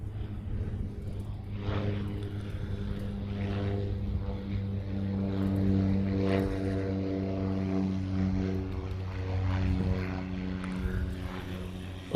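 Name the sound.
Cessna light propeller airplane flying overhead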